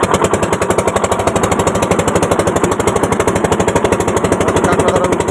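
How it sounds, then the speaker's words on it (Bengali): The engine of a small boat in the Sundarbans runs close by with a loud, fast, steady thumping chug, an even mechanical rhythm that holds throughout with no pauses. "আমাদের নৌকোর কাছে আমার কাকা এখন মেশিন স্টার্ট দিচ্ছে"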